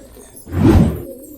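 A pair of pigeons released from the hand burst into flight, giving one brief, close whoosh of flapping wings that rises and fades within half a second against a quiet background.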